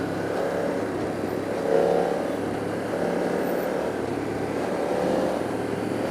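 A BMW F 900 R motorcycle engine runs with a raucous, grunty drone, swelling into a louder rev near two seconds and again toward the end, steady and fairly close throughout.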